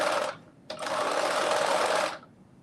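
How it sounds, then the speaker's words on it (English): Sewing machine stitching runs in two bursts, a brief opening run, a short pause, then a steady, even whir lasting over a second before stopping, close and clear with no talking. "I have to go back and stitch the beginning part again."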